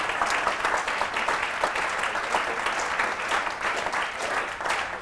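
A lecture-hall audience claps together in a dense, steady burst of applause that stays loud throughout, the many hands blending into a continuous patter with a faintly pulsing rhythm as they try to fall into sync.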